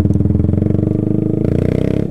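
Yamaha Fazer 250 motorcycle idling close up through an aftermarket sport exhaust, a loud, deep, evenly pulsing thump with a slight shift in tone partway through.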